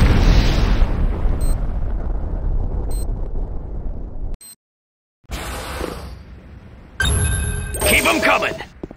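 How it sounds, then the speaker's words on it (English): C4 charge detonating in Command & Conquer Renegade, a loud booming blast that fades out, followed after a brief silence by further rumbling and sharp game sounds, with short beeps dotted through. "C4 is set. C4 is set. Fire in the hole!"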